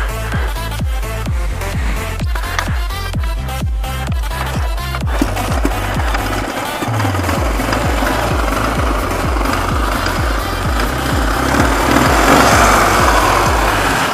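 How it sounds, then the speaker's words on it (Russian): A vehicle engine idles while warming up outdoors on a trip to collect birch sap, with a steady rhythmic chugging thump at first that gives way to a continuous rough running drone, close and loud, no speech. "Еще маленечко движок прогреется."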